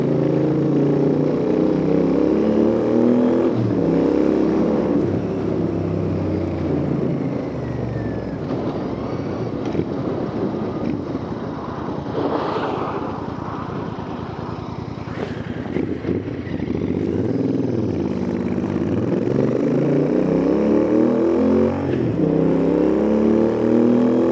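Royal Enfield Interceptor 650 parallel-twin motorcycle revving on country lanes, engine note rising and falling through gears, steady and close with heavy wind rush throughout, no talking.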